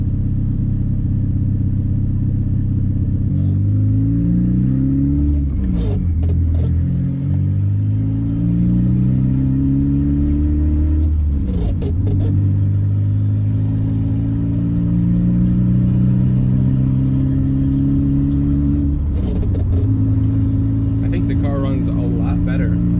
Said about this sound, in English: it idles up and it sounds pretty good right now at 1200 RPMs.